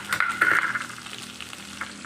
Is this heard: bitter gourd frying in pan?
yes